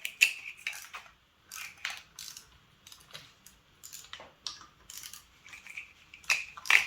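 Injector holders are loosened on a 2.0 HDI 163 engine, with a series of close metallic tool clicks and ratcheting scrapes in irregular bursts.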